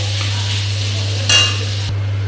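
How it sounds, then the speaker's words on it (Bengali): Yam and potato pieces fry in a spice paste with green chillies, sizzling steadily under a low hum, with one brief louder scrape as they are stirred. "এখন ভাজা ভাজা করে নিচ্ছি।"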